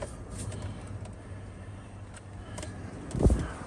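A faint, steady low hum of a 2003 Chevy Trailblazer engine idling, with a brief soft thump near the end.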